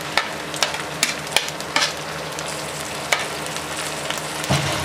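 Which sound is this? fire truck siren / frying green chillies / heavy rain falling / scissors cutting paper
frying green chillies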